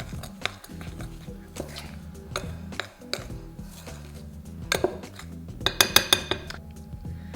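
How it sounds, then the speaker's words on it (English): Raisins patter and clink into a bowl in irregular bursts, growing busier and brighter toward the end, with no talking. "Watching raisins land is really satisfying."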